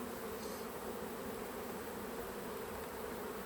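Honeybees buzz in a dense, steady drone as they are brushed off a hive frame with a bee brush, a continuous close swarm hum with no talking.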